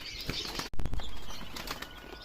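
A pigeon takes off with a sharp burst of wing flaps, a few quick beats close by, followed by softer rustling and faint background noise.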